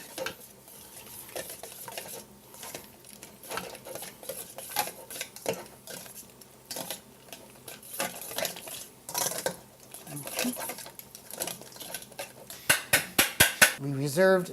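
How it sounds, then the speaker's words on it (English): Lobster bisque being stirred and pushed through a metal colander sieve, a steady clatter of utensil scraping metal with a burst of sharper rapid knocks near the end. "I'm going to just kind of stir the soup to make it, help it move through the sieve."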